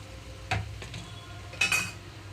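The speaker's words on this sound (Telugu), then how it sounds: "సాల్ట్ వేయకుండానే మూత పెట్టి మగ్గనిస్తున్నాను" A lid set onto a cooking pot of simmering tindora and onion chutney, giving two short metallic clinks about a second apart, close and moderately loud over a low kitchen hum.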